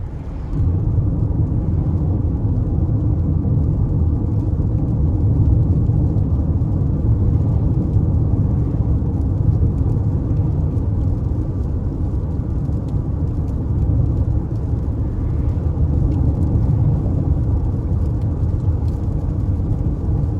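Steady low road rumble and tyre noise from a 2020 Toyota Highlander LE cruising smoothly on a road, a continuous dull drone heard from inside the cabin with no voices.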